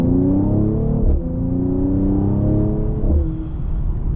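A 2020 Mercedes-Benz E53 AMG accelerates hard from a standstill, heard from inside the car. Its engine drone climbs steadily in pitch, with two brief dips at the gear shifts before it climbs again, loud and continuous.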